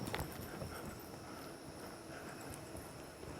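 A cutting horse's hooves move in steady, muffled clip-clop steps on soft arena ground while it works a cow. The sound is fairly quiet, with outdoor ambience and no talking.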